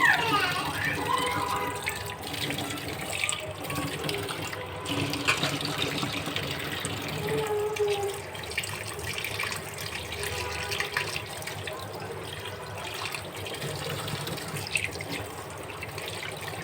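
Tap water running steadily while fish is washed in a kitchen sink, a close continuous splashing flow throughout with faint occasional clatter.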